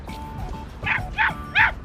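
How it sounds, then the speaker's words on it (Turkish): Three sharp dog barks in quick succession, close and loud, rising in intensity over a murmur of background noise. "Komutanım köpek geliyor. Arkada köpek var."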